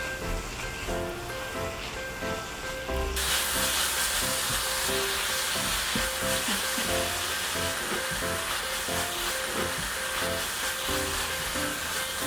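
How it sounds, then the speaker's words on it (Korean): Kimchi cut with scissors sizzles in a pan with leftover spicy pork stir-fry, a steady loud hiss and crackle that surges when the meat goes in and keeps frying throughout. "가위로 썬 김치를 볶다가 남은 제육볶음을 넣어 함께 볶아줍니다."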